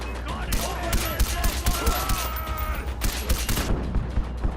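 Repeated gunfire in the video game Far Cry 4, including shotgun blasts, sharp irregular shots crackling over steady game ambience, with a voice talking underneath.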